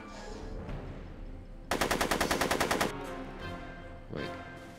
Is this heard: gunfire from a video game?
yes